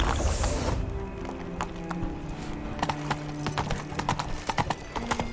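Roach the horse gallops in The Witcher 3: Blood and Wine, a loud, rapid clip-clop of hooves that grows more distinct over the clip, with a short burst of other noise at the start.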